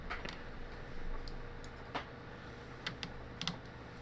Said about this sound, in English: That is Lily chewing on a bone of some sort